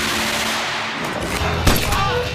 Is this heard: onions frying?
no